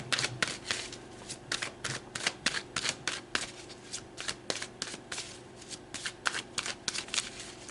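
Tarot cards being shuffled in a long run of crisp, rapid riffling flutters with brief pauses between bursts, close and fairly loud, no talking.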